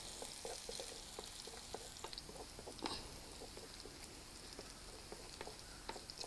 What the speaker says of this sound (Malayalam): കടുക്, ചെറിയ ഉള്ളി നന്നായിട്ട് ചുവന്ന് വരണം.